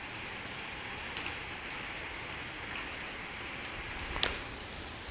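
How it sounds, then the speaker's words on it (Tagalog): Steady heavy rain pattering on a surface, a continuous even wash of drops with a couple of sharper splashes, no voices. "Lakas na ulan."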